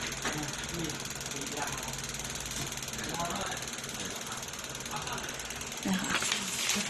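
A computer cooling fan with RGB lighting runs as a steady, dense whir that fills the whole clip, with a voice talking over it throughout.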